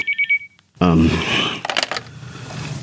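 A cellphone gives a few quick bright pulses of ringing, then falls silent before a voice starts talking up close.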